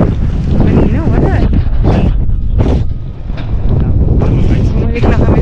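Strong, steady wind buffets the microphone in a continuous roar, with voices talking intermittently over the gusts.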